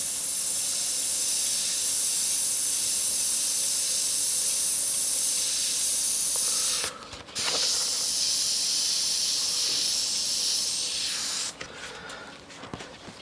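An airbrush sprays paint in a steady, continuous hiss that cuts out briefly twice, close and alone with no voices.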